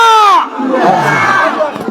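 A crowd at a Jamaat-e-Islami political rally in Bauphal, Bangladesh, roars a loud collective shout of Alhamdulillah, a massed rising chant of many voices, close and powerful, trailing into scattered cries.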